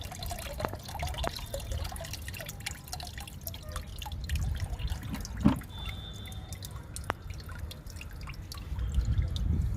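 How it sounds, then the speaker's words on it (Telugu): Homemade pest-control liquid is poured from a bucket, with scattered drips and small trickling splashes landing irregularly over a quiet outdoor background, close and fairly soft. "బకెట్తోటే పోసేస్తున్నాను ఇంకా మగ్గుతో రావడం లేదండి లిక్విడ్ అందుకని బకెట్తోనే పోస్తున్నా"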